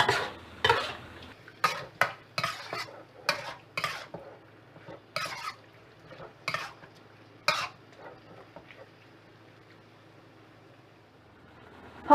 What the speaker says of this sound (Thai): ผัดให้เข้ากันเลยค่ะ หมูก็เริ่มมีสีสันขึ้นมาแล้วนะคะ